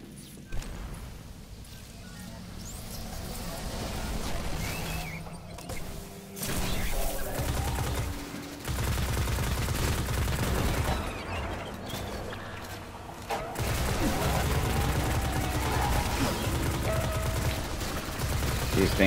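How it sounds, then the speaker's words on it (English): Enemies fire on the player in Destiny, with bursts of rapid gunfire and machine-gun chatter coming in loud stretches separated by brief lulls, mixed with game sound effects. "These things are shooting me right now, man."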